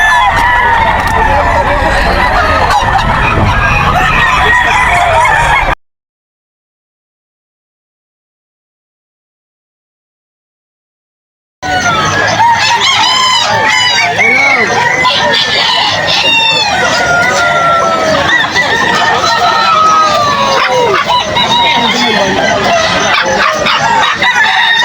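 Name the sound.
gamecock roosters crowing and clucking at a pet market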